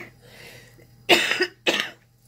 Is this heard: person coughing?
yes